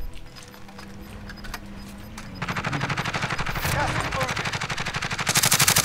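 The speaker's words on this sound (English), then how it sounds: "Oh, someone from up top's firing at me." Rapid automatic gunfire rattles through a Call of Duty: Warzone battle royale match, starting abruptly partway in as a dense, sustained string of fast shots that grows louder toward the end.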